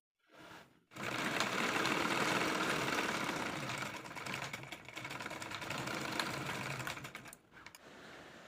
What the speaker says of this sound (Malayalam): ഇനി കുറച്ച് ഗ്യാപ്പ് ഇട്ട് ഒരറ്റം മുതൽ മറ്റേ അറ്റം വരെ ഞാൻ സ്റ്റിച്ച് ചെയ്ത് കൊടുക്കുന്നുണ്ട്.